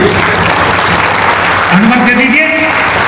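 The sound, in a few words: audience applause clapping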